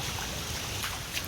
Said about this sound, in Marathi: हे बघा कसं पाणी वाहतंय.